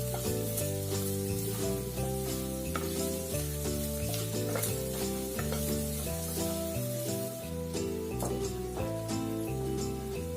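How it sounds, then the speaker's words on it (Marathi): Chopped onion sautés in a pan with a steady, crackling sizzle and repeated scraping strokes of stirring, close up, over soft background music. "आपण चिरलेला कांदा टाकायचा. हा लाल होईपर्यंत परतून घ्यायचा व्यवस्थित."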